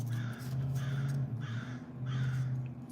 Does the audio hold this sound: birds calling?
yes